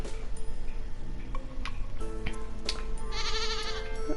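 A goat bleats repeatedly from the farm animals in Stardew Valley, with loud wavering cries over a steady ticking game soundtrack, with no one talking.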